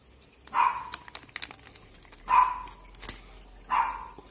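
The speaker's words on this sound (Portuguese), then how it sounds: "Como é que tem sempre um cachorro chato pra encher o saco" A nuisance dog barks in three separate bursts at a moderate distance, with short gaps between them and faint clicks and rustles in the background.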